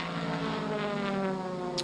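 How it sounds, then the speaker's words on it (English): Sports car racing engines at Silverstone in 2013, heard as a steady, sustained mechanical drone with a rich buzzing harmonic tone, some distance off and unbroken by speech. "The sounds of sports car racing in 2013 here at Silverstone."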